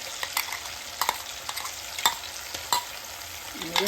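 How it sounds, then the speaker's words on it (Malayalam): A pan of frying masala with ground garlic, ginger and green chili paste being stirred for vegetable biryani, repeated sharp spatula scrapes over a steady oily sizzle, close and fairly loud. "ഇനി നമുക്ക് ഇതിലേക്ക് മസാല ഇടാം വെളുത്തുള്ളി ഇഞ്ചി പച്ചമുളക് അരച്ചത്"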